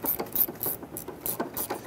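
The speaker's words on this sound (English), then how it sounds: "Now we'll just snug these bolts down" A ratchet wrench snugs bolts on the suspension of a 1999–2004 Jeep Grand Cherokee while coil spring spacers are installed, giving a quick run of close, rhythmic metallic clicks in short bursts, with no voices.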